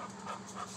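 A small dog pants softly and rapidly at close range indoors, with quiet, rhythmic breaths over a faint low hum.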